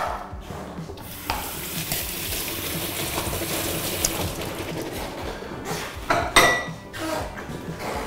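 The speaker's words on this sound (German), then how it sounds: "Ich habe hier galant die Kichererbsen abgegossen" Canned chickpeas are drained, with liquid rushing out in a steady pour, followed by clinks and clatter of a can and dishes nearby.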